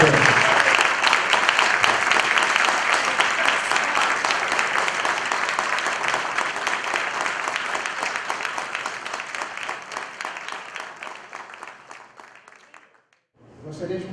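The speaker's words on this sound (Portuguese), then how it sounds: "Agora eu quero um aplauso forte para Jesus, o capelão dos capelãos." Sustained applause from an indoor crowd at a chaplaincy graduation ceremony, loud and steady for many seconds before fading out, with a voice briefly resuming afterward.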